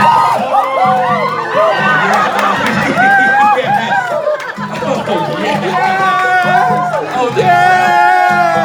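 An audience at a live hypnosis show cheers, whoops and chatters loudly throughout, a dense close crowd roar rising and falling in waves.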